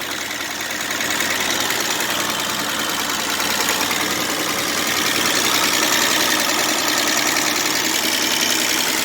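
A 1966 Dodge Dart GT barn find, sat since 1985, idling close by with a loud, steady engine rumble and fast rhythmic clacking running through it, alone without talk.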